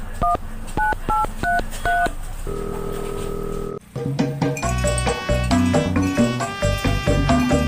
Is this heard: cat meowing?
no